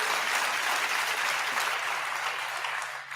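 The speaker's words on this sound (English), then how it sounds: "I don't know why they're clapping" An audience claps steadily through a comedy show, a dense wash of applause that holds even and then tapers slightly at the end.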